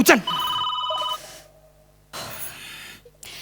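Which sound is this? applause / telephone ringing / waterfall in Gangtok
telephone ringing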